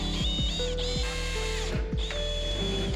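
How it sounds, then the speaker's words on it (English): A power drill boring a test hole into metal on an E46 car build, with a steady whirring motor and a rhythmic ratcheting grind that repeats several times, close and loud, with no talking. "And now I'm just gonna drill it."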